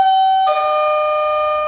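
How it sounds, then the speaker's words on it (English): Doorbell ringing indoors, a loud electronic two-tone chime: one clear tone, then a second sustained tone that rings out alone. "Who rings the doorbell?"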